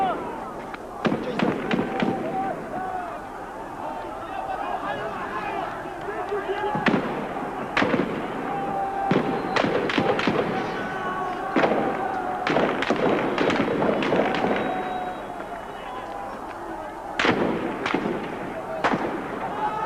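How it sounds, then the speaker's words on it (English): Gunfire crackles during Iranian street clashes where protesters answer the shooting with Molotov cocktails: irregular sharp cracks and bursts, some in quick clusters, mixed with the noise of a crowd and voices throughout. "They're replying to the bullets with Molotov cocktails."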